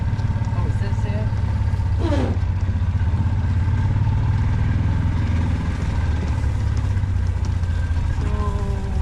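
A John Deere tractor engine idles at an outdoor steam show, a steady low throbbing rumble with some mechanical clatter running throughout, while people talk nearby.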